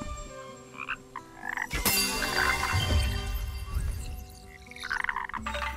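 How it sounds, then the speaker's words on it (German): Frogs croak in the video game Kena: Bridge of Spirits, with bursts of chirpy croaking over a bright shimmering chime and low rumbling game ambience. "Jetzt freuen sich die Frösche."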